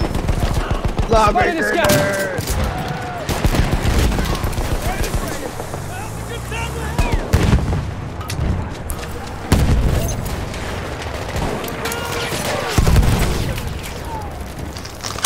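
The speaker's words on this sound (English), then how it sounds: "Enemy machine gun!" Machine gun fire in a Battlefield 1 match, rapid rattling bursts and scattered gunshots with booming explosions, close and loud, mixed with players shouting over the fighting.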